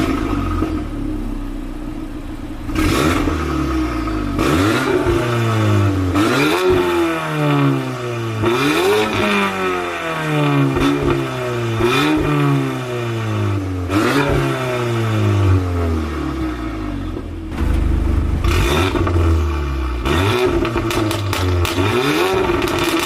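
VW Golf R MK8 with a Stage 2 tune revving hard in race mode with the exhaust valves open, loud close-up blips repeatedly climbing and dropping in pitch for over twenty seconds with no limiter cut.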